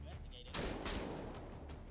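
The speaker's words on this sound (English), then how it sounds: "The shotguns in this game are just way too much of a big help for dealing with the Sosigs" Shotgun blasts in a video game, fired against Sosigs, two heavy booms close together amid ongoing game noise and a faint background voice.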